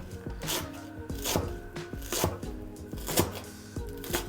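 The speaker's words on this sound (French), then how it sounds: "Et moi j'émince avec même les tiges." A kitchen knife minces fresh herbs, stems included, on a cutting board, in quick rhythmic bursts of close, crisp chops with brief pauses between runs, and no voice over the work.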